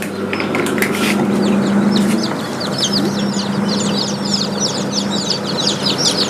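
Newly hatched local chicks in an incubator peep in a dense, continuous chorus of high, rapid chirps over a steady low mechanical hum, with a brief louder burst early on.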